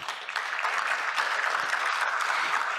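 A crowd at an event applauds a minister, a steady, continuous wash of clapping from many hands, even in loudness, at a moderate distance with no talk over it.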